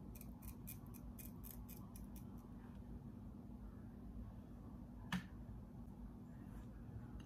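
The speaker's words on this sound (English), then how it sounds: "So we're going to use our eyebrow razor, and you're just going to cut in more of a diagonal and just cut those pieces" An eyebrow razor snips through the lace of a wig in a quick series of close, crisp little cuts, then a single louder snip a few seconds later, all over a steady low background hum.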